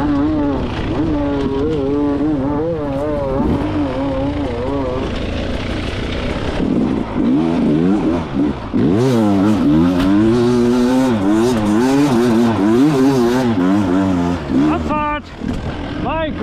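A motorcycle rides and accelerates hard on a racetrack, engine pitch sweeping up and down through repeated gear changes, loud and close throughout, with occasional voices.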